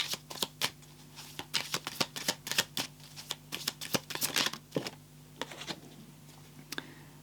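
Crisp, irregular tarot card-handling sounds: quick flicks, slides and taps of cards being shuffled and drawn, close up with no talking.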